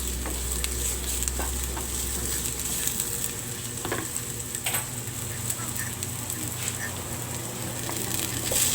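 Aromatics sauté in a pan until browning for a chicken dish, a steady close sizzle with stirring scrapes and a few light clicks of the utensil.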